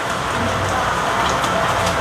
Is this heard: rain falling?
yes